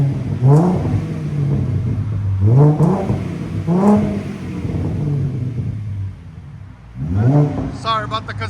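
A 2014 Ford Mustang with a 3.7L V6 and a Magnaflow Competition Series cat-back exhaust revs repeatedly in a loud, close sequence of rising bursts over a steady idle rumble.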